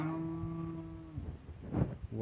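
A mother cow on a small farm moos loudly and close by, calling for her calf. One long, low call fades into soft rustling and faint background noise.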